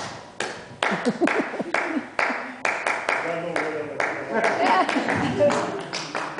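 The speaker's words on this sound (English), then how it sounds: "the music track, of course, is using the clapping" Rhythmic hand clapping used as a music track, sharp repeated claps in a steady pattern with overlapping voices and laughter from a small group.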